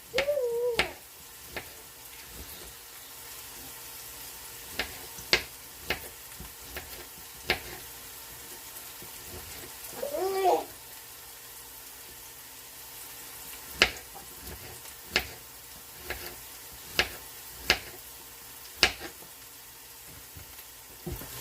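Onions and mushrooms saute in a Ninja Foodi Possible Cooker Pro with a steady low sizzle, punctuated by repeated sharp clicks and scrapes of stirring spaced irregularly throughout, with no talking.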